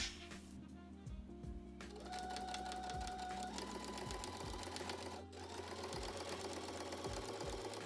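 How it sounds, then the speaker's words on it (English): A sewing machine edge stitches the pressed-open pocket bags of a skort, running in a steady rapid chatter with brief pauses and restarts, close and alone. "you'll press both pocket bags open and edge stitch them in place"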